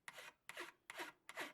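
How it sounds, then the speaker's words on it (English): Four even strokes of a hand file cutting a Japanese engraving chisel, each a short, close, raspy scrape with a brief pause between. The rhythm is steady, the level is quiet, and no one speaks. "I have switched away to a slightly more aggressive file"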